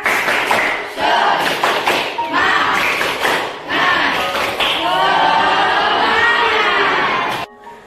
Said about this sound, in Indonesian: Terus kita lakukan tepuk semangat, biar kita lebih semangat.